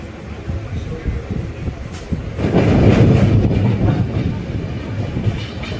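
Kandari Express passenger train running overnight from Digha toward Howrah, a steady rumble and wheel clatter that swells louder midway and stays continuous throughout.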